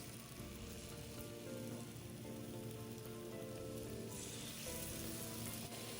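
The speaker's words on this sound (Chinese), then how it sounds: "然后直接放入热锅里油炸。" Batter-coated shiitake mushrooms deep-fry in hot oil at about 150°C, giving a soft, even, continuous crackling sizzle that grows slightly brighter near the end; no talking.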